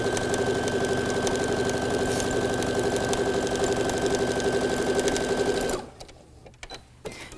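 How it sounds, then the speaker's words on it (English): A sewing machine runs steadily at speed while stitching quilt half-square triangle units, its motor hum and rapid needle chatter loud and close for several seconds before it stops abruptly, leaving faint handling of fabric. "I'm just going to stitch right along."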